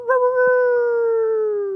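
A dog named Christmas, a dancing dog, lets out one long sustained howl with steady harmonics that slowly fall in pitch, close and loud, alone with no talking.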